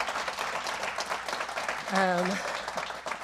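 An audience claps steadily for the finalist teams at a community showcase, a continuous patter of hands running throughout, with a brief voice rising over it midway.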